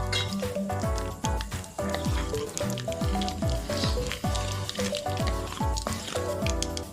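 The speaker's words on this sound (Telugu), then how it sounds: "ఇప్పుడు ఆవాలు చిట్పట్లాడేంత వరకు వేయించుకోండి." Mustard seeds splutter in hot oil in a kadai while tempering for rava upma, a dense run of sharp crackles and pops over a steady sizzle, close up, with a tonal background underneath.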